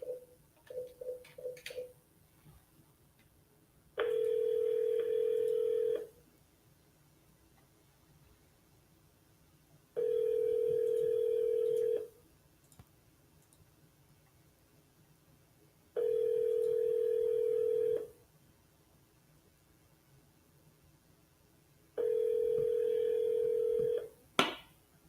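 A telephone line rings back with four evenly spaced two-second tones separated by silence, clear and steady as a call is placed and waits for an answer.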